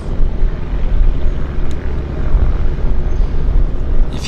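A floatplane engine drones steadily at Vancouver Harbour, a loud, continuous low rumble with a faint higher whine on top, heard up close without any talk.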